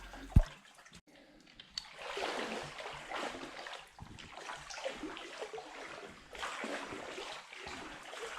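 People slide down a slanted tunnel into cold, waist-deep water in a Guam sea cave. Close sloshing and splashing goes on steadily with a few sharp knocks and a hollow echo, and no one speaks.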